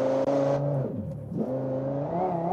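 Xtreme V10 rally car in BeamNG, a Scintilla-derived V10, revs with a loud, high, harmonic engine note that drops briefly and then climbs back to a sustained scream.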